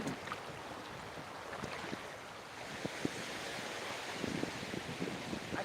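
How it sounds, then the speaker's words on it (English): Ocean surf rolling onto a beach in Thailand, a continuous broad wash of breaking waves with soft wind buffeting, close and steady with no voices. "I can hear the waves coming in."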